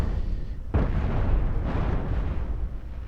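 Ship explosions in the space combat game Cosmoteer go off as a sharp blast followed by a rumbling roll of booms, one burst trailing into another, moderately loud with no speech.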